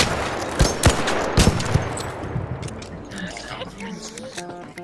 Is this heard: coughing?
no